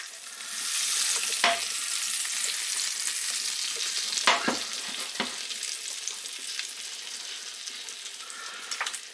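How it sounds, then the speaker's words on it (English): A pat of butter melts with a little oil in a hot pan while being swirled, a bright, steady sizzle that fades slightly, broken by a few sharp clicks of the pan. "And a little pat of butter. And I'm going to swirl that around a bit."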